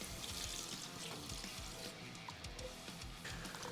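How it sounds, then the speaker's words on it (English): Beef broth pours into a stew pot for steak and kidney pie, a steady liquid splash and gurgle running close and continuous for the whole stretch. "We're gonna add about a water cup's worth of beef broth."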